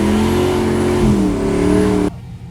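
A stunt car built for burnouts revs loudly nearby, its engine note holding steady then shifting pitch before cutting off abruptly, leaving quieter background rumble.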